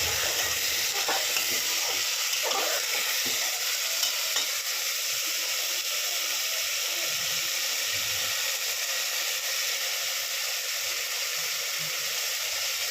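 Lentils fry in a pan with a steady, even sizzle and hiss. Faint stirring sounds come and go underneath, with no talking.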